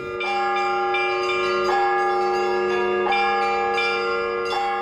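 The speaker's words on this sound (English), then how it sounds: "Russian bells aren't easy on the ear" Church bells ringing in repeated overlapping strikes, bright metallic tones clanging every second or so and sustaining between hits, loud and close.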